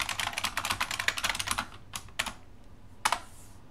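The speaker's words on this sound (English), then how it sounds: "Typing loudly." Loud, fast typing on a computer keyboard, with dense rapid keystrokes for about a second and a half and then a few scattered separate taps, close up with no talking.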